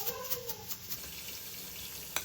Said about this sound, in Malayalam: കട്ട് ചെയ്ത് വെച്ച സവാള ഇട്ട് കൊടുക്കാം. സവാള ഒന്ന് വഴണ്ട് വെച്ച